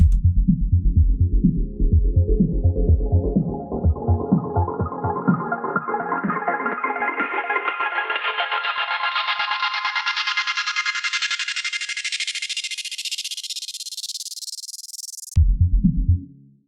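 A pulsing electronic sound in Ableton rises steadily in pitch over about fifteen seconds as a reverb dry/wet sweep grows, thinner and more washed out, then cuts abruptly back to the low original beat.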